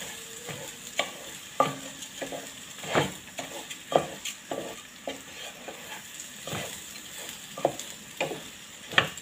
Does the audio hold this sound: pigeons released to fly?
no